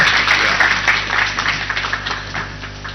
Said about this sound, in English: Another round of applause to the Deputy Clerk.